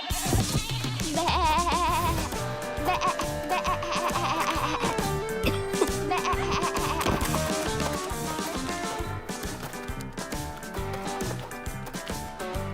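Goats bleat in an animated Barbie cartoon, with several high, wavering calls mixed into a busy, continuous music score that plays throughout.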